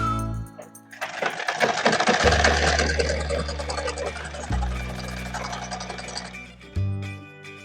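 Electric sewing machine stitching a pajama seam down the center line, a steady mechanical whir with short bursts broken by brief pauses and a low motor hum, close up, with no talking.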